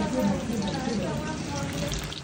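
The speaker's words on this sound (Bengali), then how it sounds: "আরও লাল লাল করে রাওয়া ফ্রাই ভাজা হচ্ছে" Steady sizzling of rava fry frying in a pan, a continuous crackling hiss at close range with no voices.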